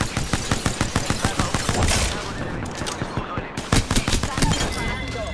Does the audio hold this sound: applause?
no